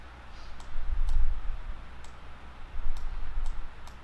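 A computer mouse clicking while resizing items in design software, a series of light, sharp, isolated clicks spaced irregularly over a low room hum.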